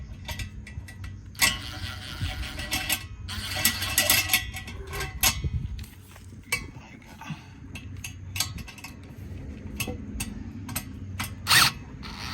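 A hand ratchet tightens the bolt on an exhaust tip clamp on a Dodge Charger, giving bursts of quick clicking with pauses and clanks between strokes, close by and fairly quiet.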